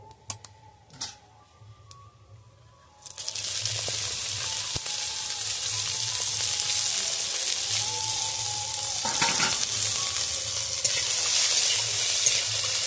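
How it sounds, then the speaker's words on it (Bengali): Chopped onions hit a hot pan for a Bengali kulekhara leaf dish with fried lentil bori, bursting into a loud, steady sizzle after a few quiet seconds, with occasional scrapes of stirring running through it. "পেঁয়াজটা একটু ভালো করে ভেজে নেব।"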